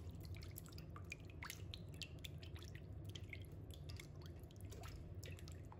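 Chicken thighs are rinsed in water, giving soft, close, steady trickling with many small drips and splashes over a low hum, faint and continuous.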